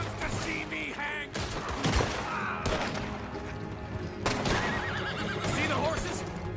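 Horses neigh in the video game Red Dead Redemption 2, two loud whinnies rising over hoofbeats, shouting and gunfire-like bangs during a chaotic outdoor scene.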